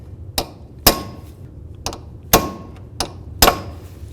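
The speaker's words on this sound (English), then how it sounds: "We want to make sure that we peen the nut down into that area." Sharp metallic hammer strikes peen an axle nut on a 1998-2002 Honda Accord front hub, six separate blows spaced about half a second apart, each a ringing clank that quickly fades.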